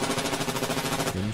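Rapid automatic weapon fire from a gun in Titanfall, a loud, steady stream of close shots with a tight repeating rhythm that ends abruptly.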